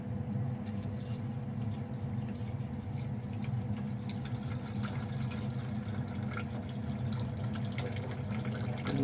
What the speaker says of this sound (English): I think we can just pour it all in.